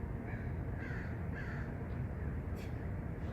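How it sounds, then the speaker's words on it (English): Several crows caw from a distance, a handful of harsh calls spaced out over a steady low outdoor rumble. "Look at that murder of crows, man."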